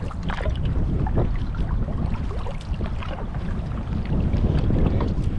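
Gusty wind buffets the microphone while a solo canoe is paddled on open water in windy conditions, a constant rough roar with faint splashes and no voices.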